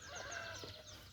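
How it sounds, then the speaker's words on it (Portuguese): A naked-neck breed rooster clucks briefly and faintly, a short, low-level burst heard alone with no talk. "Ó o galo. O seu Wagner adora essa raça de pescoço pelado."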